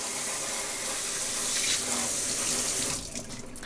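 Tap water runs steadily into a sink as Miltonia orchid roots are rinsed clean for repotting, a loud close hiss that thins slightly near the end, with no talk over it.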